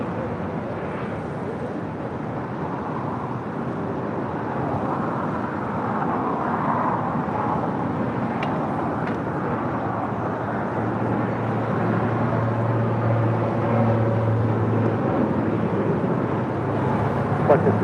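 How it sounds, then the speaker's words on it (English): A China Airlines Cargo Boeing 777 freighter from Taipei arrives, its distant jet roar a broad, steady rumble that swells gradually beneath wind noise and faint airport background, with people talking intermittently. "This is China Airlines Cargo 5108 coming in from Taipei on a 777 freighter."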